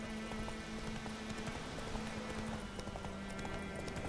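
A horse's hooves clip-clop in the Witcher 3 video game, a steady, even rhythm at moderate loudness that runs throughout under a low background drone.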